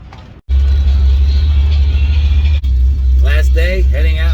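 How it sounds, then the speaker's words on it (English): An old truck pulls away from the Syracuse Nationals car show, its engine a loud, deep close rumble after a brief cutout, with voices talking over it toward the end. "Last day, heading out in the old truck."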